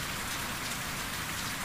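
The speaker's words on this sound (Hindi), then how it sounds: "हवा ना बहुत तेज़ चल रही है, बारिश इतनी नहीं हो रही जितनी तेज़ हवा चल रही है।" Steady, dense hiss of rain driven by strong wind, with a constant rushing noise, loud and unbroken throughout, in a village.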